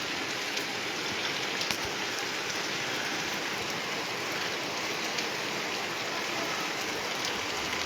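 Monsoon's first rain comes down over a village in Malwa, Punjab, a dense, even shower of drops hissing on surfaces without pause or voices.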